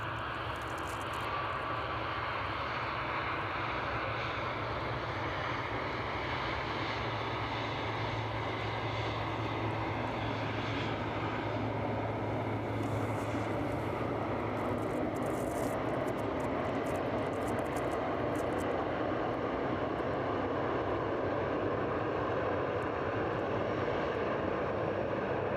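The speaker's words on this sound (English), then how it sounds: "the Embraer Phenom 300 making its way here from Malta this evening is on final now" Embraer Phenom 300 business jet on final approach at East Midlands Airport in the evening, a steady broad engine roar that stays constant throughout, heard from a distance in the open air.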